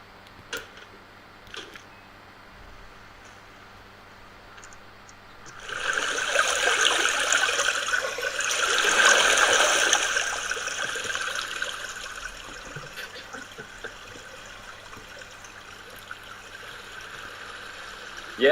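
Water pours into a large pool in a virtual artwork, a soft rushing flow that swells in the middle and then tapers off, with small ticks and clicks scattered throughout.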